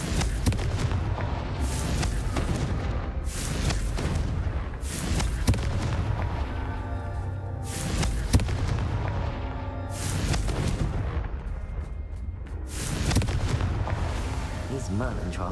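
Explosion spell going off in a Harry Potter video game, a series of loud booming blasts roughly every two seconds over continuous game music and effects.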